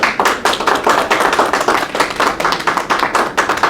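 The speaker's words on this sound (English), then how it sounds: "Islam, give our sister a round of applause" Dense, steady applause from a crowd, many hands clapping together at once with no pauses.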